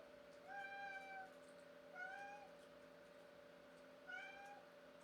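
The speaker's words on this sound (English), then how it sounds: "Why are you meowing?" A house cat meows three times, each a drawn-out, rising-and-falling call spaced a couple of seconds apart, close and clear over a quiet steady background hum.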